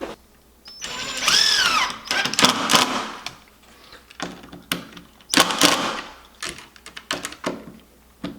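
A power driver runs screws into a wooden bartop arcade cabinet in short whirring bursts, one with a rising and falling whine, separated by clacks and handling noises up close.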